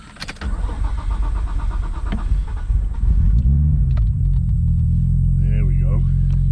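A car engine cranks and fires after being refuelled from a jerry can, loud and close, settling into a steady rumbling idle with some clatter and a faint voice near the end.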